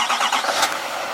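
A 2020 Chevrolet Silverado 2500HD Z71 with the 6.6 Duramax diesel starting up, a short cranking rattle catching into a rough mid-pitched idle, close and fairly loud.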